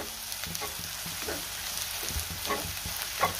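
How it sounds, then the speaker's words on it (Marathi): Onion and grated fresh coconut sauté in a pan for a dry vegetable dish, a soft continuous sizzle with occasional scraping stirs and light clinks, close and steady with no talking. "आता आपल्याला ह्यामध्ये ओलं खोबरं घालायचंय आणि पुन्हा 2 मिनिटं चांगलं परतून घ्यायचंय"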